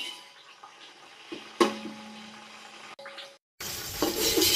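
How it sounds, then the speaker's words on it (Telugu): Coriander and mint fry in hot oil in a pan for a Telangana mutton and chicken dish. A steady low sizzle runs under stirring and clinks, then swells into a louder, brighter frying hiss near the end. "నూనెలో మంచిగా వేగాలండి అవి."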